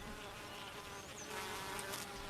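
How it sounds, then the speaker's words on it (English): Honey bees buzz steadily inside a hive, a dense continuous drone of many insects at low level with no voices. "Worker bees do almost all the chores in the hive."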